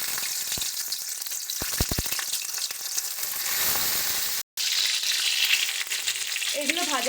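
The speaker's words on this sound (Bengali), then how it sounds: "এবার আমরা এক এক করে শিমগুলো দিয়ে ভেজে নেব।" Boiled flat beans hit hot oil with a burst of sharp crackles and pops, settling into a continuous close sizzle with a brief dropout midway.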